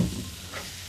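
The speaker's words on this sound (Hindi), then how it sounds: "और इसके साथ इसमें डालें जीरा, और जीरा भुनने के बाद ये दाल इसमें डालें" Cumin seeds roasting in hot oil for dal on a home cooking show, a soft steady sizzle with faint stirring scrapes, low and continuous for about a second without talk.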